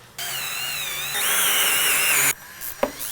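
Cordless power tool driving a bolt into a threaded insert during a van air conditioner install, a close, loud whirring burst that rises in pitch, then stops with a short click.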